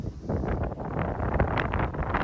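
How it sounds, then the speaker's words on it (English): Strong wind buffets the microphone in heavy, uneven low rumbling gusts that continue without a break. "it's crazy windy right now"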